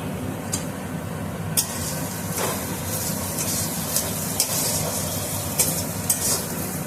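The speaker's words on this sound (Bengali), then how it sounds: "এবার সমস্ত মশলা আমি ভালো করে কষে নেব" Mutton pieces being stir-fried in a pan with spices, red chilli powder and green chilli paste: steady sizzling with several sharp spoon scrapes against the pan, close and without talk.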